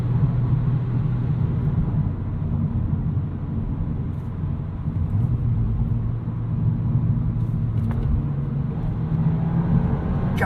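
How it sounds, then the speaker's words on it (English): A 2022 Volkswagen Golf R with a six-speed manual drones along with its exhaust in the loudest setting, a steady low engine rumble heard from inside the cabin for about ten seconds, without talk. "now I know that I have the loudest exhaust setting"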